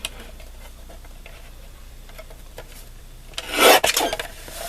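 A paper guillotine trimmer slices through card stock in one loud, rasping cut near the end, after a stretch of quiet, faint rustling close by.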